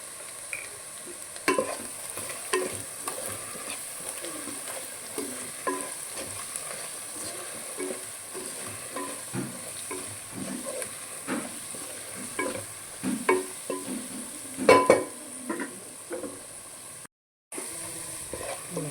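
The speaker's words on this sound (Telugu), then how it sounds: "ఎంత తొందర అయిపోయిందో మనకి ఆలుగడ్డ ఫ్రై అయితే." Potato pieces stir-fried with chili powder in a pan, a continuous soft sizzle under frequent scraping and stirring from a spatula, close by, without any speech.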